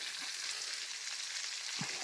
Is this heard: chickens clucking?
no